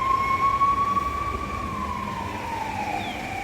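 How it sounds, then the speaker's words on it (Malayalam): An ambulance siren wails in a long, steady tone that slowly drops in pitch as it passes, moderately loud over a low traffic rumble, with no talking. "ഒരു ആംബുലൻസ്."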